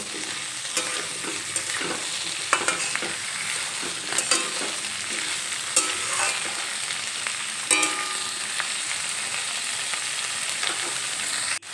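Pointed gourd and long beans being stir-fried in a pan, a constant sizzle over which a spatula scrapes and clatters in irregular bursts, close and fairly loud throughout.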